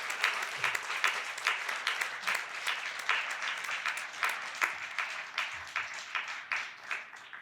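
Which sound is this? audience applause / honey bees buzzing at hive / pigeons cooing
audience applause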